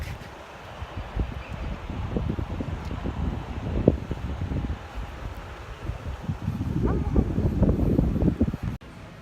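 Strong, freezing wind buffets the microphone in a steady low roar on a hotel deck in a historic small town in England, gusting harder toward the end.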